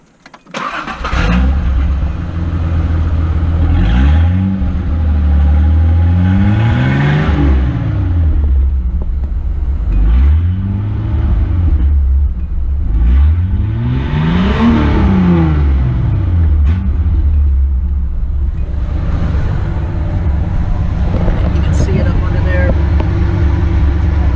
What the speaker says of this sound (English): It sounds, to be honest with you, a lot like my Jeep sounds, because I mean that is also a straight six with pretty much no muffler.